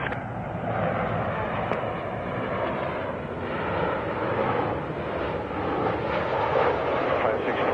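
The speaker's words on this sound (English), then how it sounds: "a heavy 767 will depart the parallel runway, caution wake turbulence" A heavy Boeing 767 jet departs a parallel runway at LAX, its engine roar a steady, broad rumble held at a constant level throughout, moderately distant with no clear rise or fade.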